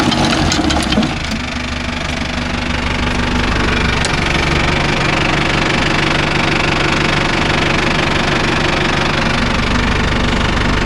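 A Mahindra Arjun Novo 605 DI tractor engine runs steadily and loud, with a constant low diesel throb and knocking rumble that holds without a break, no voices over it.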